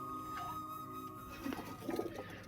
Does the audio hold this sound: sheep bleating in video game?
no